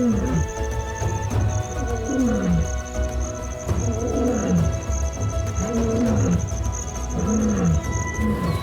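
Lions roar across the open East African plains, several deep, repeated roars rising and falling in a steady rhythm over a constant hum of insects and scattered bird calls.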